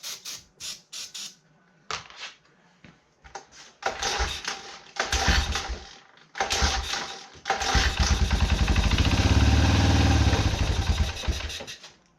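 A Yamaha Tri-Moto 200 three-wheeler from the 80s sputters through several short, choppy attempts before catching and running steadily with a buzzing, close engine note.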